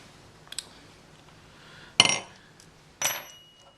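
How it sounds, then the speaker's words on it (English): Small metal parts of a 1911 pistol clink as the hammer strut and its pin are fitted: a faint early tick, then two sharp metallic clicks about a second apart, close and otherwise quiet. "You put the hammer strut back in, take a pin"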